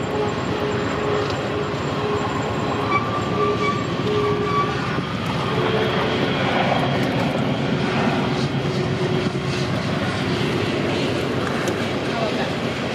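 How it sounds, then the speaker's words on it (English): A train rolls past steadily with continuous rumbling and clattering wheels, a faint horn tone drifting in, sustained for the whole stretch. "Well, that is a long train."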